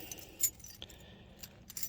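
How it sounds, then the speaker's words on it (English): A wad of car keys for a 1979 Lincoln Mark V jangles quietly in a few short, light metallic clinks and rattles, close up against a hushed background. "got a wad of keys here"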